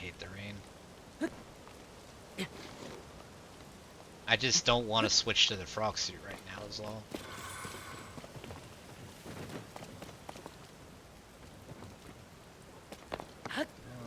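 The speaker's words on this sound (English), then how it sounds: "I hate the rain." Rain falls steadily in Zelda: Tears of the Kingdom, a soft hiss under the player talking throughout, with brief louder game sounds midway.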